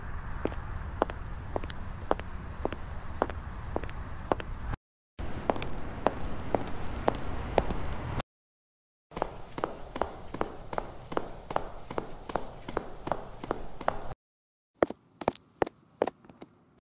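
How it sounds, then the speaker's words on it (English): Several AI-generated takes of high-heeled footsteps on a street, crisp regular clicks over a low city ambience, split by short silent gaps, the last take sparser and thinner. "Street ambience with high heels footsteps."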